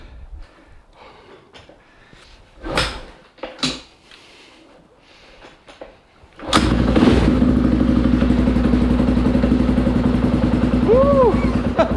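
A motorcycle fires up in cold winter weather with the choke off after a few scattered knocks and thumps, then runs loud and steady close by with an uneven, rough idle; a voice briefly whoops during the run.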